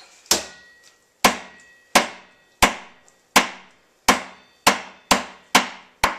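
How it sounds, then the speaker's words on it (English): A cleaver chops through chicken bone with about ten loud, sharp, evenly spaced whacks close at hand, each one ringing briefly before the next; no talking. "I gotta go through this bone with the cleaver again"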